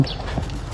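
Hard-soled shoes clack on the floor with each step while someone walks, a steady close patter of footfalls throughout.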